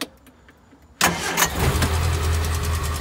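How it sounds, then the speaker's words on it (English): A maroon Triumph Herald convertible's engine cranks and catches at about one second on full choke, then settles into a loud, steady idle close by, with no talk over it. "I think we can probably start the car up."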